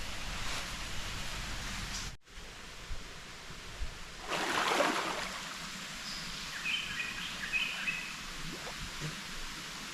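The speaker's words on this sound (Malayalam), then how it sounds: "ഫാമിൻ്റെ സൈഡിലൂടെ ഒഴുകുന്ന തോടാണിത്" A stream flowing beside a farm gives a steady, broad rushing wash of water, fairly soft and continuous, with a brief gap and a few faint splashes and chirps over it.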